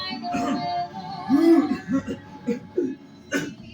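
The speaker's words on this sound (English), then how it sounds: "The king is racked with coughs again." A man coughs in several harsh, uneven bursts, some sounding like a strained chuckle, with short pauses between them.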